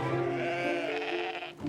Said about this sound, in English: So, I need to move those sheep